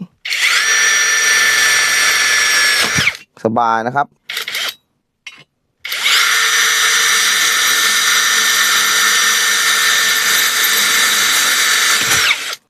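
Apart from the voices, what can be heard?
Masaru SCDS-175 cordless screwdriver drilling 1.5 mm steel box tube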